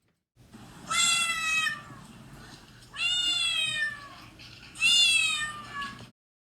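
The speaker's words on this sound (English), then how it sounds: "I hear a cat." A cat gives three clear, drawn-out meows, evenly spaced and close by, with quiet pauses between them.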